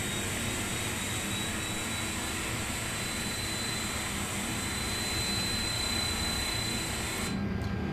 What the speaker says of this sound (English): Okay, we have a good start in engine 1